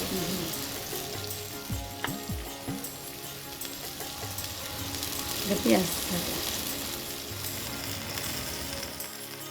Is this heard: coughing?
no